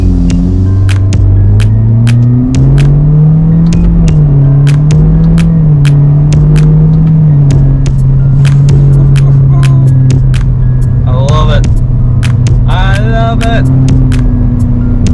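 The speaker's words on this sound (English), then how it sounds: "the car should not sound so good with a muffler delete" Car with a muffler delete idling and revving, a loud deep droning exhaust note that rises and falls, with brief higher engine whines and crackles near the end.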